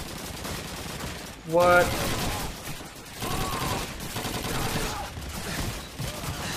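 Bursts of rapid gunfire rattle through a Call of Duty 2 battle at Pointe du Hoc, several short volleys in close succession with background combat noise, and a player speaks briefly.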